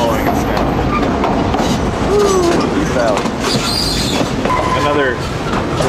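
A scenic mountain railway train runs on the line from British Columbia toward Skagway, Alaska, with a loud steady rumble, clatter and brief wheel squeals, and people talking over it.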